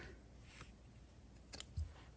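Scissors snip crochet yarn close up, a few quick soft cuts in a quiet room with no talk.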